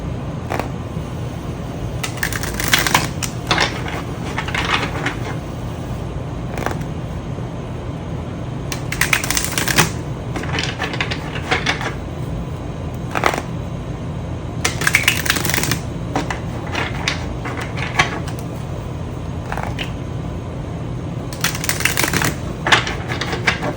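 A deck of tarot cards is shuffled in repeated bursts of crisp riffling and slapping, each lasting about a second, separated by quieter pauses over a steady low background.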